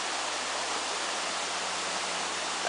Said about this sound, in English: We are at this beautiful waterfall in Wales, South Wales I should say.